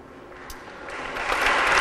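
Audience applause at a talk, a dense spread of clapping that swells and grows louder over a couple of seconds, with no voices over it.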